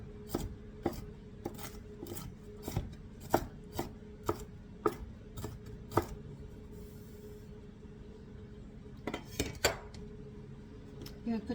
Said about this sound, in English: I'm chopping my nuts up right now.